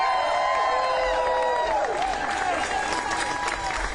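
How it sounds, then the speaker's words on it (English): Crowd at a voting rights rally at the U.S. Capitol applauding steadily for Texas House lawmakers, a dense continuous wash of clapping and cheering with a few whistles over about four seconds. "let's give them a round of applause."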